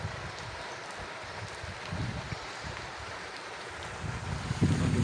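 Heavy rain and flowing rainwater outdoors at Fort Munro, Pakistan, heard as a steady, dense broadband rush with low rumbling gusts, continuous and fairly close throughout, with no clear voices.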